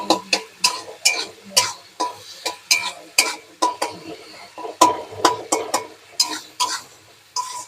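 Food is stirred and sautéed in a pan, with a spoon scraping and tapping against the metal in a quick, steady run of close, sharp strokes and a faint sizzle underneath.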